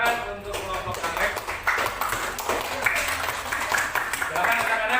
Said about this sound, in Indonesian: Tepuk tangan untuk kelompok anggrek.